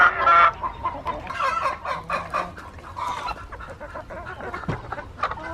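Backyard chickens clucking and murmuring near a small-scale poultry processing setup, a close, loud burst at the start followed by continuous softer clucks and calls through the rest.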